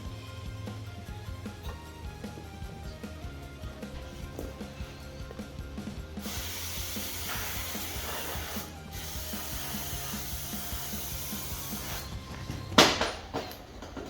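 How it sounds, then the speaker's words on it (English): Brake cleaner sprayed onto the front wheel hub of a 2003 Honda CR-V during a wheel bearing replacement: two long hissing bursts follow a stretch of quiet ratcheting and mechanical clicks, with a sharp clank near the end. "clean this area up with a bit of brake cleaner"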